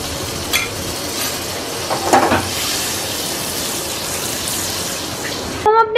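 Butter, about a tablespoon, melting in a pan on the stove gives a steady, moderate sizzle with faint stirring scrapes, and a brief voice cuts in at the end.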